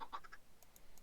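Minecraft chickens giving a few quick, close clucking calls in a short burst at the start, followed by fainter high chirpy ticks from the game.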